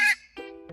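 A parrot lets out a loud harsh scream while flying low, followed by two shorter, quieter squawks as it keeps going.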